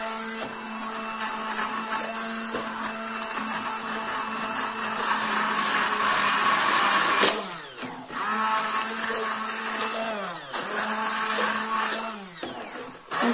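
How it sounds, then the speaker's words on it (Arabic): An electric blender whirs loudly and continuously, its motor pitch dipping briefly a couple of times as it mixes fekkas dough ingredients with sugar and dried fruit. "ممكن نديرو الخلاط العادي"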